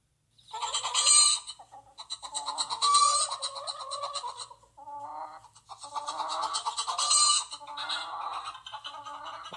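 Several chickens cluck and squawk in quick bursts, close and fairly loud, with short pauses between the runs of calls.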